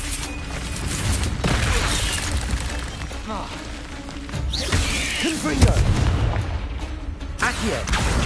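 Confringo blasting spell in Hogwarts Legacy on PS5, with booming bursts and fiery impacts amid combat effects, under shouted speech.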